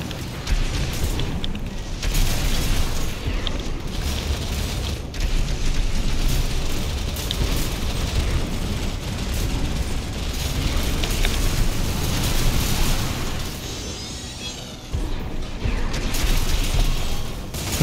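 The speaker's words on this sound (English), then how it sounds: "There's the stagger and the missiles" Missile explosions boom in Armored Core 6 combat against a staggered enemy mech, fired from a tetrapod build: a dense, loud, continuous barrage of blasts and mechanical rumble with brief dips between volleys.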